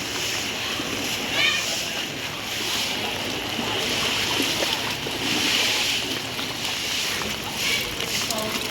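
Deep flood water splashes and sloshes around moving through a flooded street, with a steady rushing background and occasional louder surges.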